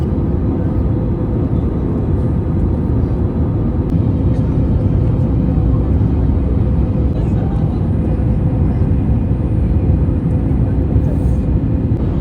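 Steady, loud low rumble fills an airliner cabin on arrival at Singapore Airport, a continuous engine and airflow drone with no distinct events.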